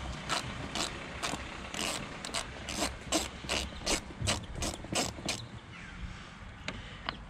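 Ratchet working a bolt loose on the air filter box of a Volvo S80/S60/V70-type car, a run of quick repeated clicking bursts in close succession, fairly near, tapering off toward the end.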